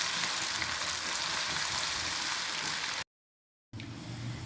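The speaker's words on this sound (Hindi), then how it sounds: "ये मैंने लिया एक प्याज, थोड़ा बड़े साइज़ का था, तो इसको मैं थोड़ा सा पकाऊंगी, ज़्यादा फ्राई नहीं करना इसको।" Onion frying in hot oil, a steady bright sizzle heard up close, briefly cut off and then resuming.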